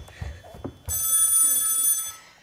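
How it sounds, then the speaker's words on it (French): A telephone rings with a bright, sustained electronic ring that starts abruptly after a few soft thumps and holds steady and loud to the end. "téléphone, pardon."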